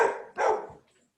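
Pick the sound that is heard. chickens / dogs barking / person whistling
dogs barking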